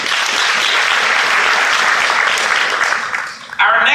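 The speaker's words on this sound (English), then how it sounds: "give yourselves a round of applause" A conference audience applauds loudly at a PechaKucha event, a dense, steady wash of clapping that fades briefly near the end before a voice cuts in.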